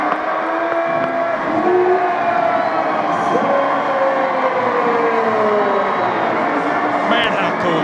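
A college baseball crowd roars steadily throughout an LSU home game in Baton Rouge, a loud, dense wash of stadium cheering with a commentator talking over it.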